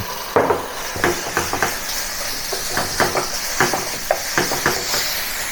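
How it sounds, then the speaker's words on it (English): Minced pork stir-fried in a wok for a spicy garlic eggplant dish, with repeated sharp scraping clinks of a spatula against metal in an irregular rhythm over a steady sizzle, close and clear. "I'll then add the minced pork and continue stir frying"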